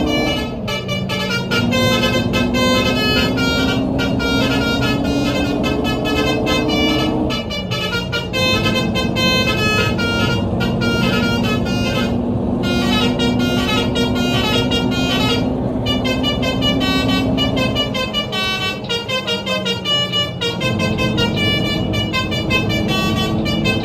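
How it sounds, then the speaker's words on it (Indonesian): A telolet bus horn in Euro Truck Simulator 2 plays a loud, continuous melodic tune of shifting musical tones, alone and without talk for the whole stretch. "kita kembali membunyikan klakson telolet Samsuri."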